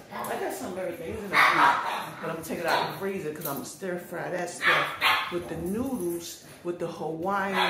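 Several dogs bark and yip repeatedly in a home kitchen, close and fairly loud, their bursts mixed with a person talking continuously over them.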